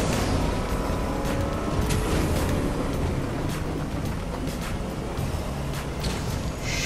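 A motorboat engine in the Fortnite video game drones loudly and steadily throughout, a constant broadband roar with no speech.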